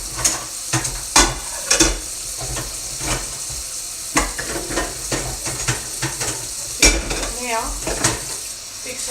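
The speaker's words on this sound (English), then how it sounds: "fix up the dishes that are in the sink. Teaspoon that I'm now washing" Dishes and a teaspoon are washed in a kitchen sink, with close clinks and clatters of cutlery and crockery over a steady hiss of water. A single word is spoken briefly.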